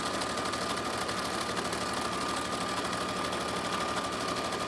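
A sewing machine runs steadily as it stitches the long side of a cloth mask, giving a continuous loud, even mechanical whir with fast rhythmic needle clatter throughout and no pauses.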